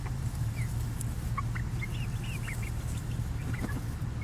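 Several bantam chickens, one to two months old, cluck and chirp in short, scattered calls over a steady low background hum, close by and moderately loud.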